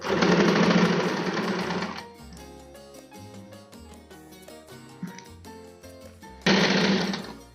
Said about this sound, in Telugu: నేనేం చేస్తున్నానంటే కొంచెం ఒక 2 ఏళ్ళు దూరం పెట్టేసి ఇట్లా స్టిచ్ చేసుకుంటాను